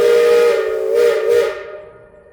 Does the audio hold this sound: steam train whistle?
yes